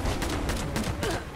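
Rapid bursts of 5.56 rifle fire crackle in quick succession in the video game Fallout 76, loud and dense over a short stretch with no talking.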